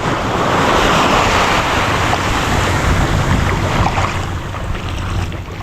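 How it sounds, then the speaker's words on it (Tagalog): A rough sea crashes and surges around a small boat without pause, with wind buffeting the microphone, loud and close throughout. "Malatak ang dagat ngayon."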